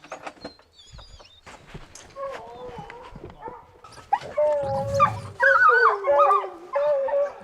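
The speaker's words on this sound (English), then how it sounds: "They put that first dog's nose right in the track right there, and he started barking and took off" Hunting dogs bark, yip and howl on a cougar track outdoors in Utah, starting as scattered calls and building to loud, overlapping howls and barks near the end.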